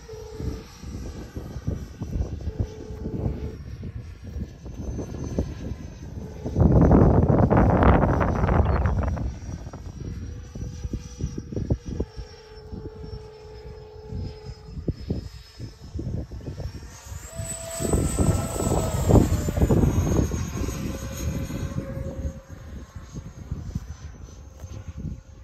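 A B-2 bomber in flight produces a steady jet engine roar at moderate level, swelling louder twice as it passes, with some wind noise and no talk.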